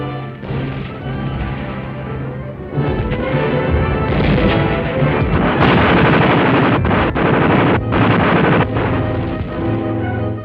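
Heavy gunfire from the World War II attack on Bilibid prison in the Battle of Manila, with dense bursts of rifle and machine-gun fire and heavy blasts rolling continuously, loud and close, with no voices.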